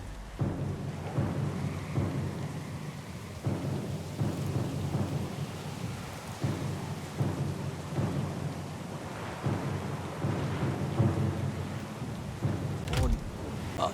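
A thunderstorm at sea in Pillars of Eternity II: Deadfire, with steady heavy rain and rolling thunder throughout and a sharp, loud crack near the end.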